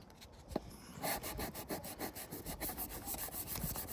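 Mounting points for a solar panel being rubbed down by hand give a faint, steady back-and-forth scraping in regular strokes after a brief knock, with no talk.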